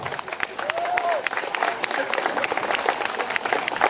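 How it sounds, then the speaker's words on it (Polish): Campers at a tourist song festival beside the Pilica river in Warka give a band hearty, crisp clapping, sustained and fairly close, with a few voices and a short whistle mixed in. "Skills, wielkie brawa!"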